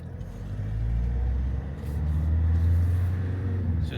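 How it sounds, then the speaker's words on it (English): A Ford Kuga drives up the road after a rear wheel speed sensor replacement, giving a low, steady engine and road rumble from inside the car that swells and holds throughout. "So just go for a little drive up the road"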